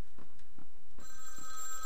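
Telephone ringing in the video game Vampire the Masquerade Bloodlines, a loud bell-like ring in quick repeated bursts that turns into a sustained bright trill near the end, with no voices.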